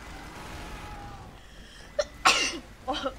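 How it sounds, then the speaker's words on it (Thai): A single sharp sneeze bursts out close to the microphone after a quiet background hum, followed by a softer second exhalation. "จามซะงั้น"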